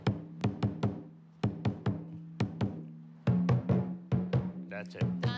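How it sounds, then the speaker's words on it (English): A sacred lion dance drum beats out a basic walking rhythm, loud close strikes in quick groups of two and three with short pauses between, ringing with a low booming tone. "this is your basic walking or playing around beat"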